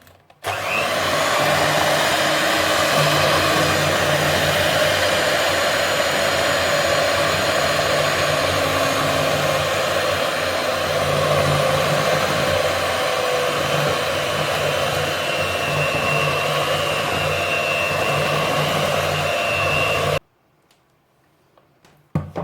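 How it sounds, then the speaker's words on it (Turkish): An electric mixer whisks coconut cake batter with vanilla, giving a loud, steady whirring drone close by for about twenty seconds before cutting off abruptly into near silence. "Şimdi hepsini güzelce çırpalım."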